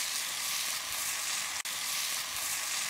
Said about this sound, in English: I've got the bacon and the sausage in the hotter zone.